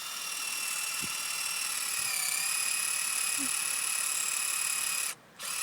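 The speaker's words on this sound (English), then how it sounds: "just drilling some more holes" A power drill whines at a high, steady pitch for several seconds boring holes in a log, dips slightly, then cuts off abruptly before briefly resuming.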